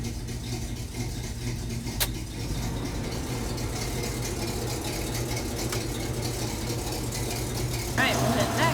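A Chevy C20 tool truck's engine idling in a shop, a steady low rumble with a slight rattle, close and continuous under people talking.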